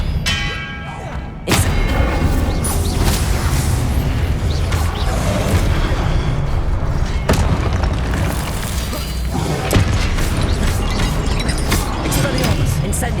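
Hogwarts Legacy combat with the Expelliarmus spell being cast: heavy thuds and booming magical impacts over a dense, loud wash of game noise, with a sharp hit near the start and more scattered bursts.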